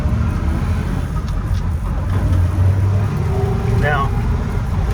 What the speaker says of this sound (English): like most FJ40s, it's got some gear noise